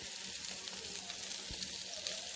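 Chicken roasting Al Faham style on a hot stone with freshly added oil gives a faint, steady, crackling sizzle throughout, without talk.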